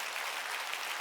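A church congregation at a Wednesday worship service claps hands together, a brief soft burst of many hands blending into a steady faint patter.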